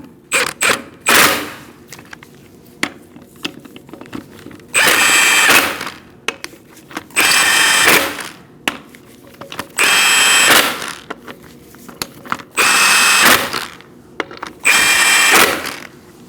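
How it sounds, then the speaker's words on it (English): A power tool runs the 19mm socket, tightening lug nuts in a crisscross pattern on the front wheel of a 2004-2012 Chevrolet Colorado. It comes in several loud, close whirring bursts of one to two seconds each, separated by short pauses and a few clicks. "You're going to tighten your lug nuts in a crisscross manner using a 19mm socket."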